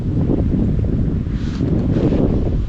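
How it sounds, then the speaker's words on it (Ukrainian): Strong gusty wind buffets the microphone beside a river, a continuous low roar that surges and eases, with faint rustling underneath. "Дуже сильний поривістий вітер"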